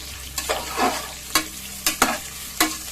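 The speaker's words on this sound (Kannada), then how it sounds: "ಅದು ಎಣ್ಣೆಲೆ ನೀಟಾಗಿ ಫ್ರೈ ಆಗಬೇಕು ದಪ್ಪಮೆಣಸಿಕಾಯಿ ಎಲ್ಲ" Capsicum fries in oil for batani bath, with a close, steady sizzle punctuated by several sharp spatula scrapes and clacks at irregular intervals.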